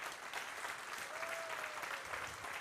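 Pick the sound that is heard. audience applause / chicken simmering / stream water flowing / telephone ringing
audience applause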